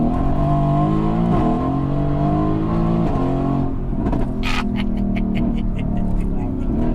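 Mercedes-Benz AMG GT S engine revving hard, a loud sustained roar that climbs and falls through several rises, followed by sharp exhaust crackles and pops near the end, with people talking under it.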